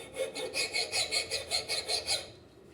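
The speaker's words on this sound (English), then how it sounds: "the double cut files cut on the end as well as the face, so we're going to use that end to file with" A double cut file rasps across the end of a wooden propeller blade in about ten rhythmic back-and-forth strokes, close and fairly loud, before stopping. No one talks.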